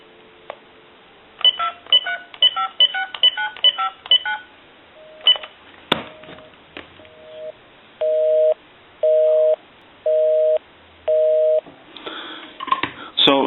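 A number is dialed on a converted Western Electric candlestick telephone: a quick run of short tone bursts, a pause, then four even, evenly spaced ringback tones, with faint clicks near the end.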